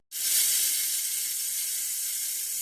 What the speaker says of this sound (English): this is that second flush. Let's see if it shuts off.